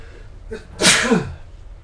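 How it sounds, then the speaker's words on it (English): A single sharp sneeze bursts out close to the microphone, with a brief breathy intake just before it and quiet afterward. "I sneeze."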